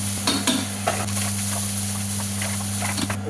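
Whole spices, bay leaf, cloves, cinnamon and green chilli hit hot oil with onion for a Bengali pumpkin curry, giving a steady close sizzle with scraping stirs over a constant low hum.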